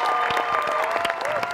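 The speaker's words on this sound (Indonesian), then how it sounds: "Tepuk tangan untuk mereka." Studio audience applause on an Indonesian TV baking competition as contestants step forward, a steady patter of clapping at moderate level with a thin tonal hum running underneath.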